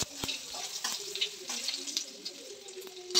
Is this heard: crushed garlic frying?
yes